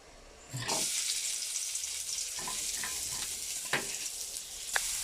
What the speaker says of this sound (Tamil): வெங்காயம் வதங்கிட்டு இருந்துச்சு